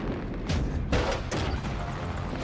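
Gunfire and an explosion in an action-film scene, with heavy booming blasts and bursts of shots layered over a dense, loud rumble.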